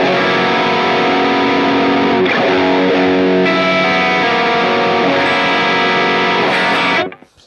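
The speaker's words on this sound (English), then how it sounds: "how you can hear every single note in a very complex chord with a pretty heavy distortion tone" Heavily distorted electric guitar chords through a Mesa Boogie Mark series amplifier ring out loud and sustained, changing a few times before being cut off abruptly near the end; no talking.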